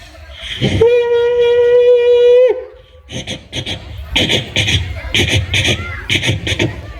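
At a school program, a mimic imitates a passing train with a sustained, rising horn-like whistle, followed by people talking with bursts of crowd chatter.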